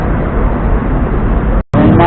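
A bus passes close by on a busy road in Manila, a loud, steady engine and traffic roar that cuts out briefly near the end before resuming.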